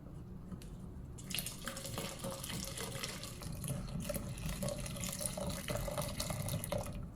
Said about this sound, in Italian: Man mano adesso aggiungiamo tutta l'acqua restante e ovviamente otterremo un composto invece molto liquido.